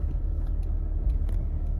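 A 1999 Jeep Cherokee Sport 4x4 rolls slowly in part-time four-wheel low, its engine giving a steady low rumble close by with faint ticking and creaks on top and no talking.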